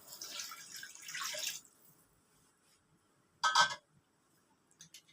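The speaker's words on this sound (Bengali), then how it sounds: "দিয়ে দিচ্ছি 1 বাটি জল।" A bowl of water poured into a cooking pot while making a lentil curry, a short splashing pour followed by quieter drips and a brief second splash, heard alone and close.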